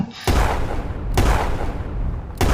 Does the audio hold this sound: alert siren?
no